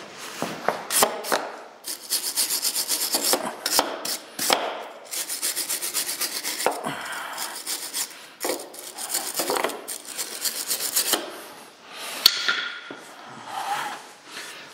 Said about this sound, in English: I gotta get a wire brush and clean this up.